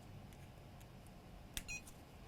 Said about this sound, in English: I do hear the beep